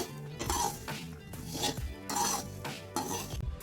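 Masala-coated peanuts are stirred and roasted in a pan on a gas stove, giving about four rhythmic bursts of scraping and rattling, close and moderately loud, with a soft sizzle between strokes and no speech.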